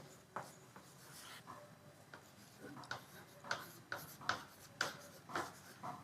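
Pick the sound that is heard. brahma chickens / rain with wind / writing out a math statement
writing out a math statement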